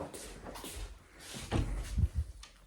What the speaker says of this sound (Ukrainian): До мене вже собачка шкрябається в двері.